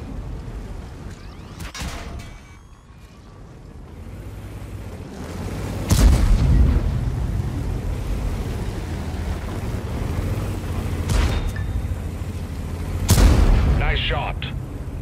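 Tank cannon shots in World of Tanks boom out as three loud, spaced blasts over a low rumbling engine drone, with a voice talking between them.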